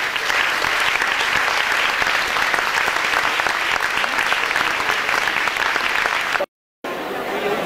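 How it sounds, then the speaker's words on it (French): Spectators at the election of the 17th Queen of Arles applaud the queen's maids of honour with loud, sustained, dense clapping lasting several seconds, broken by a brief dropout of silence near the end before the clapping resumes. "Je vous demande aussi de les applaudir pour tout ce qu'elles vont faire avec nous."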